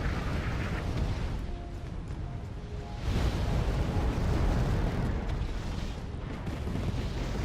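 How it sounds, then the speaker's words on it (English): Deep rumbling blasts and long, heavy roar from a battlefield in the war strategy game Wargame Red Dragon, including an RPG rocket hit, loud and sustained with no talk over it. "Good old RPG to the face."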